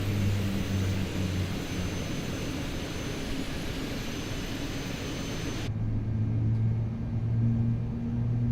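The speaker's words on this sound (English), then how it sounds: "All right, sounds like 2 good engine starts." Airbus A380 jet engines spooling up after start in a flight simulator game, a steady low rumble with droning tones throughout, the broadband roar cutting off sharply near the end while the deep hum continues.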